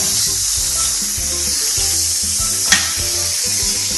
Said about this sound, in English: I'm just going to add my ground beef. Just going to give that a stir.